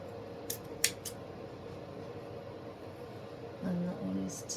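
Scissors snip through fraying ribbon while an artificial ladybug wreath is being made: a few sharp, close cuts early on, then quiet, with a brief low voice near the end.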